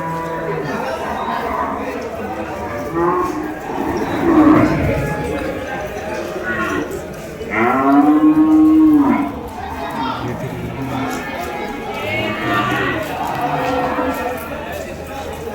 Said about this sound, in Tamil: ஸோ அந்த காளை நல்ல பெரிய சைஸு காளை.